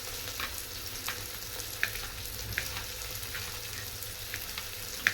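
Chopped onion and capsicum fry in a pan with a constant, fairly quiet sizzle and crackle, and an occasional faint tap of a utensil stirring, heard close up with no one talking.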